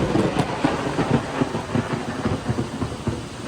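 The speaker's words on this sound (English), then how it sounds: "Man, it's pouring." Heavy rain pours onto an old barn during a storm, a dense, steady wash of noise with a rapid drumming patter running through it, close and fairly loud, with no voices.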